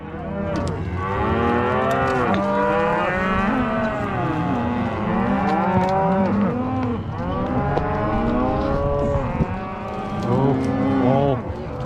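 Many cattle in a herd on a Montana cattle drive moo loudly and continuously, overlapping lows rising and falling close by with a steady background of animal noise.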